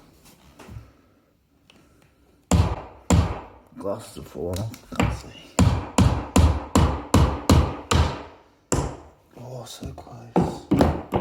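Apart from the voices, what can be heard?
hammer hitting a nail into skirting board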